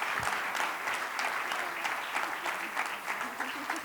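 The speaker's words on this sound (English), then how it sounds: "I definitely want you to have a round of applause for the Pepup Tech girls." Audience applause at a closing keynote for the Pepup Tech girls, dense and steady clapping from a crowd of moderate size that holds throughout at an even level.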